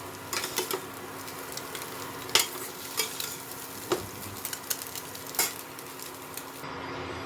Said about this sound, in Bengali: ডিমটা আমার ভাজা হয়ে গেছে